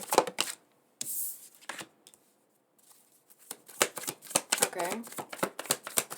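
Tarot cards are shuffled by hand in quick bursts of riffling and flicking, close and crisp, separated by brief pauses, with a voice speaking briefly.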